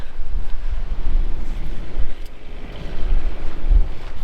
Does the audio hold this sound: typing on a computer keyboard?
no